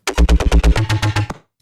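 A loud synth bass drop pulses in quick repeated hits that step downward in pitch, about a dozen beats, then cuts off abruptly, in a drum and bass track.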